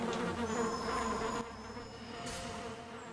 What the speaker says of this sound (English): A swarm of bees is coming after Teku.